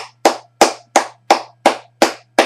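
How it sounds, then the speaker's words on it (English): One person claps hands slowly and deliberately, eight sharp, close claps at an even pace of roughly three per second, each standing alone in a quiet room. "I'm going to clap here."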